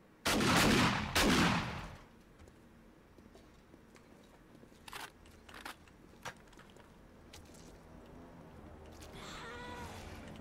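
Gunfire in the video game 7 Days to Die: two loud bursts of shots at the start, then a few sharp, fainter cracks scattered over a quiet background.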